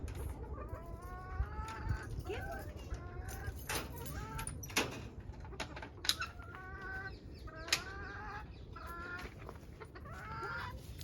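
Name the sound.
chickens clucking coming out in the morning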